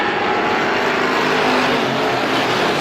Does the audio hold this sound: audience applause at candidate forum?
no